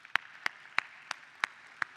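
Single hand claps at a sustainability launch event, six sharp evenly spaced claps close to the microphone over two seconds against a quiet room background.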